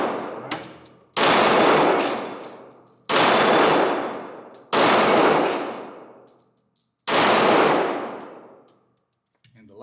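A Shadow Systems DR920 pistol fires at steel targets outdoors: four loud, close shots spaced about a second or more apart, each with a sharp crack and a long ringing decay.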